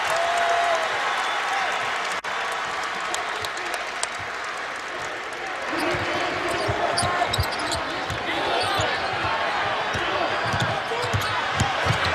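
A crowd roars throughout a Louisville Cardinals versus NC State college basketball game, with sneaker squeaks and ball bounces from the court. A commentator talks over the arena noise.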